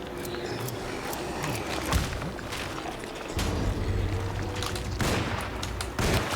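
Gunfire aimed at a monster in the 2024 Alone in the Dark horror video game: a few sharp, loud shots spaced a second or more apart over a steady background of game noise.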